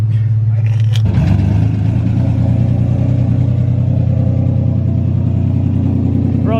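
A tuned E85 Nissan 350Z or Infiniti Q50 engine close up, starting at a steady idle, then blipping sharply into a loud rev that settles into a rough, throbbing hold, with voices talking over it.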